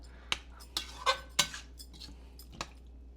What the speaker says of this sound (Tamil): ஒரு 1 or 2 மினிட்ஸ் வந்து இப்படியே நீங்கள் கிளறி விட்டே இருங்க